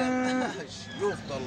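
A calf at a livestock market gives a short, close moo, with another brief lowing call after it, against a faint background of market noise.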